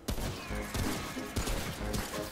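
Pistol fire in the co-op shooter Remnant: From the Ashes: several sharp shots spaced roughly half a second apart, each with a booming tail, over a thick bed of game noise.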